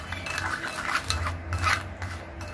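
Bentonite clay powder is stirred with mineral or distilled water in a small container, giving soft close scraping and clinking of a utensil in an irregular rhythm with no talking.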